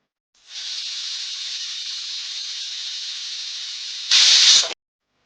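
A kitchen pressure cooker vents steam in a steady, loud hiss that holds for several seconds, then surges into a sharper, louder burst before cutting off abruptly.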